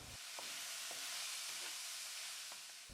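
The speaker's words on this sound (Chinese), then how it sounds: "接下来再炒洋葱和姜，如果用底油，里面有水分会溅。 炒出香味以后，再下入葱和蒜。" Onion, ginger, scallion and garlic stir-fried in a hot wok, a steady loud sizzle with a few soft scraping stirs, close up, with no talking.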